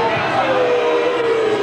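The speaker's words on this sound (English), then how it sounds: "Crowd booing" Crowd booing at a 1984 rugby league cup quarter-final between Parramatta and Penrith, a dense continuous roar of many voices filling the stadium, steady and loud throughout.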